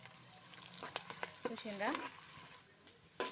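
Onions and green chillies frying in a pan give a faint, low sizzle with a few light clicks of stirring. Someone speaks briefly over it.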